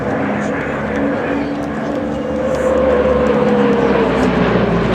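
An aircraft at the La Ferté-Alais airshow taking off and flying, a loud sustained engine roar that swells and holds with a gliding drone tone, heard from the crowd area with people's voices mixed in.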